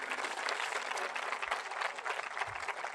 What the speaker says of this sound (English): How about a round of applause for our current UTRGV staff?